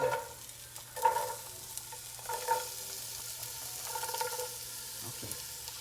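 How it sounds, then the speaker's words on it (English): Chopped onions and browning garlic fry in a pan while a utensil stirs them, giving a soft, constant sizzle with light scraping strokes close by. "now we're browning the garlic and we're also gonna add onions"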